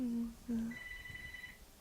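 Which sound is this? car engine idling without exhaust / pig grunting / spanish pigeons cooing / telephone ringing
telephone ringing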